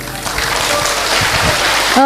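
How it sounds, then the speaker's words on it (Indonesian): A university lecture audience claps at the end of a public talk, a steady, even wash of applause lasting about two seconds, with a sharp tonal sound cutting in right at the finish. "Oke, tepuk tangan yang meriah."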